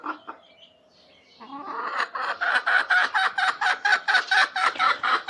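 A mother hen clucks close by in a rapid, steady rhythm of repeated short clucks that grows louder and more regular after a quieter, sparse start.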